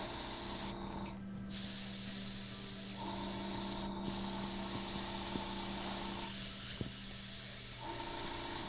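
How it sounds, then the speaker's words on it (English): An airbrush sprays paint onto a fantasy painting in a steady soft hiss, faint and close, with a few brief stronger bursts and small clicks between passes, no talking. "the introduction of the soft focus airbrush goes a long way to giving the impression of a"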